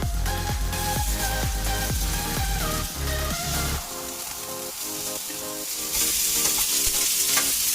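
Pork chops and garlic fry in hot oil in a pan, making a loud, dense, continuous sizzle close by, with rhythmic stirring or shuffling at the start and no talking.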